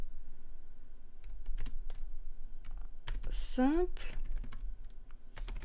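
Computer keyboard typing a prompt to ChatGPT, a quick run of close, light key clicks mixed with a person talking and a short rising whistle-like tone partway through.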